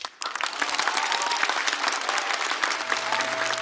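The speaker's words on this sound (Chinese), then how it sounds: "再次把掌声送给2位" A talk show studio audience breaks into sustained, dense applause that rises quickly and holds steady for several seconds, with a faint tone beneath it.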